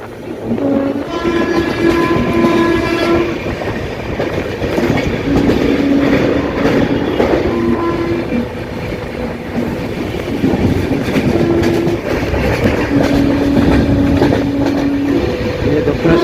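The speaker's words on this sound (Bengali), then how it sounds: "মেট্রো লাইন এক্ষুনি একটা মেট্রো চলে গেল" A metro train passes on an elevated line near Dakshineswar, heard from inside a moving mail train as a loud, continuous rumble and wheel clatter, with several sustained horn blasts sounding through the passage.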